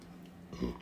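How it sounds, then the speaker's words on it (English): A single short, low burp rises at the end of a brief quiet moment during a casual live stream, close to the microphone and without speech. "Sorry for the burping."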